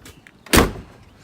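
A single solid thunk of a 1970 Mustang Mach 1 car door shutting close by, brief and sharp, then quiet.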